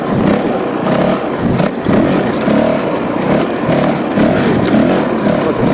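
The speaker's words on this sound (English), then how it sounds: "Go get some air into the engine, just cool it off a bit." A Honda CRF450L motorcycle engine runs loud and close, with a continuous rough drone that swells and dips in a steady rhythmic pulse for several seconds, with clattery mechanical noise and no voices.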